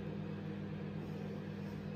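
A home microwave oven runs unusually loudly while warming food, giving a steady low mechanical hum and rumble, constant and close, with no talk over it.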